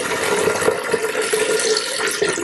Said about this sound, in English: now I'm going to add water. 3 to 4 cups inside the soyabella.